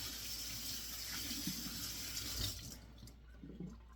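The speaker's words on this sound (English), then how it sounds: "I'll rinse my hands off here real quick." Water runs from a kitchen tap as hands are rinsed after coating a turkey, a steady close splashing flow that thins out and falls quieter toward the end, with no talk.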